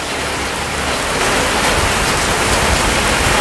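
A heavy rain downpour roars steadily and loudly for several seconds, a dense unbroken hiss of water pouring down, with no voices.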